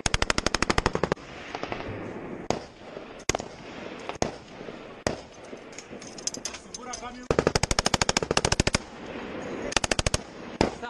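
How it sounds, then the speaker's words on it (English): A SAW light machine gun fires in a military shooter video game, with rapid loud bursts of automatic fire repeating in sequences, mixed with distant gunfire and voices in between. "Let's go, start shooting!"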